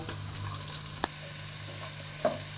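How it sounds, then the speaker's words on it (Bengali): Broccoli, onion and capsicum fry lightly in a pan with a soft, steady sizzle. Two brief clicks or stirs of a utensil break through partway, and no one speaks. "এবার আমি ব্রোকলি পেঁয়াজ ক্যাপসিকাম হালকা করে ভেজে নিব"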